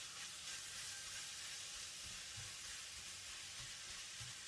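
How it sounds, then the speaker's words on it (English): Minced lamb fries in a pan for shepherd's pie, a steady close hiss and sizzle running throughout, with soft scraping and clicks as a spatula breaks up and spreads the meat. "Add all the minced lamb. With the spatula, breaking it into pieces, evenly distributing them around the pan."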